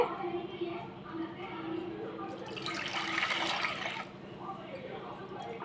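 Water splashes and pours in a steady stream into a cooking pot for a couple of seconds, with background noise and some faint voices around it.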